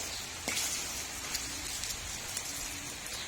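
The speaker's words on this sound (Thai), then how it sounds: "ฝนตกหนักมากเลยนะคะ ที่บ้านนะคะ" Heavy rain pours down at a home in Thailand in a dense, even hiss, with a few louder splashes and gusts of wind rising now and then; no one speaks.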